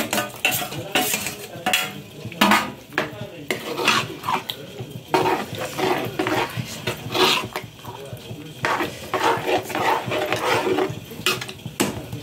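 Brinjal (eggplant) curry is stirred in a pot with tamarind water, giving steady metal scraping and clinking of a spoon against the vessel along with a faint sizzle. A voice speaks briefly now and then.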